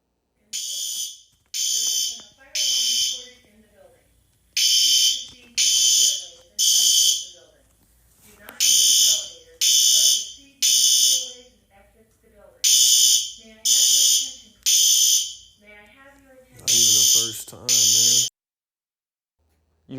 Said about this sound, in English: Cover your ears. The alarm's about to go off,